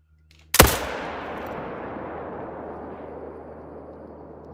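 A single loud rifle shot fired while deer hunting in Mississippi, a sharp close crack followed by a long rolling echo that fades slowly across open ground.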